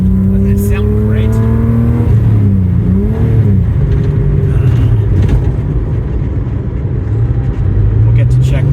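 A Datsun 280Z engine drones loudly and steadily from inside the car on a road drive, its pitch sweeping up and down as the driver works through the gears, with voices talking faintly over it.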